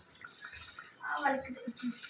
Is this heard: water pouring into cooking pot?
yes